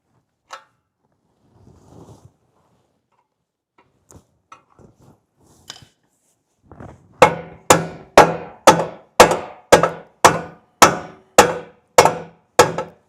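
A hammer repeatedly strikes a bushing to split it open, about ten sharp metallic blows at a steady rhythm, close and loud, after a stretch of faint scattered clinks and handling noises.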